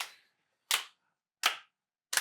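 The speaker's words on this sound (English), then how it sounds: "Slow clap." Three sharp, isolated hand claps ring out one at a time, spaced at slow, deliberate intervals with silence between them, close and crisp with no talking.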